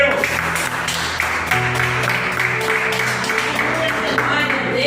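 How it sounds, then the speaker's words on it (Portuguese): A church congregation claps in a continuous patter, with voices and sustained tones carrying over the applause. "Você pode aplaudir a Ele?"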